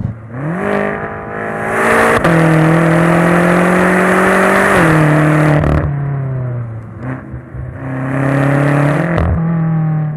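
A BMW M5 engine with a dual-clutch transmission revs hard and loud, then clicks through fast upshifts with sharp drops in pitch between steady pulls. The engine climbs again near the end, with no talk over it.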